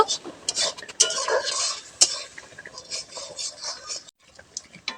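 Pieces of rohu fish go into a pan for a curry with bottle gourd, with close, repeated clinks and scrapes of a utensil against the pan over a light sizzle, pausing briefly near the end.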